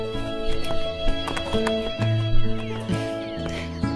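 A horse whinnies and its hooves clip-clop close by, with snorts and shuffling steps, and a few soft voices in the background.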